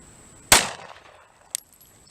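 A single sharp, loud crack of a Glock G43 pistol fired during an outdoor harsh-environment field test, followed by a brief quiet decay and a small metallic click about a second later.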